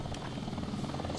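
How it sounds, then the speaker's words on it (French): A helicopter flies over a city in the Sonic Adventure 2 video game, a steady rotor drone heard briefly under someone speaking. "Petit hélicoptère qui se dirige au-dessus de la ville"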